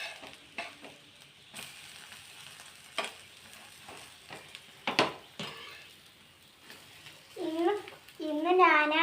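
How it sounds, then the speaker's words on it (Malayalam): Three eggs frying in a pan, a soft sizzle under intermittent speech with scattered clatters and stirring scrapes, a voice rising at the end. "ഇന്ന് ഞാനാ മുട്ട ഫ്രൈ ചെയ്യുന്നത്."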